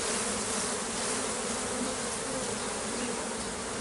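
A dense, steady buzz of many honeybees swarming close by at a hive, continuous and unbroken.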